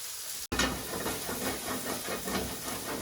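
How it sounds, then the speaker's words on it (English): Chicken livers hit a steaming hot pan with butter, shallots and thyme, bursting into a loud, continuous hiss and crackling sizzle after a brief silence. "So here we've got a steaming hot pan"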